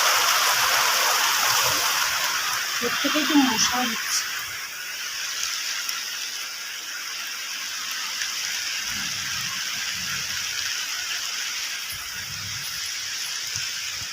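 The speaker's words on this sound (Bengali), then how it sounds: "এখন দেখো ঝমঝম করে বৃষ্টি নেমেছে" Heavy rain pours in a dense, steady hiss, with a brief murmur of voices early on and then rain alone.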